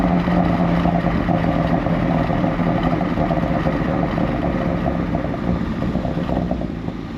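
A Genesis G70 with a Borla exhaust cruising in comfort mode, giving a steady, even drone of engine and road noise with no burbles.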